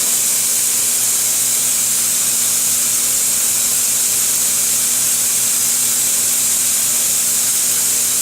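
A Semitool spin rinse dryer running its dry cycle produces a steady, even whooshing hiss with a faint constant hum beneath, unchanging from start to finish.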